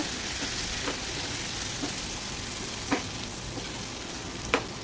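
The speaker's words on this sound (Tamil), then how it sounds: "இப்போ இந்த திராட்சையை போட்டு நம்ம நல்லா வதக்கிக்கிறோம்" Steady sizzling of grapes sautéing in a pan over a slow flame, a constant crackly hiss with a few soft clicks of stirring.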